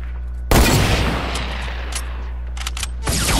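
Gunfire in the video game Fortnite, with a loud burst of shots at the start, a sustained rattling tail, and another burst near the end.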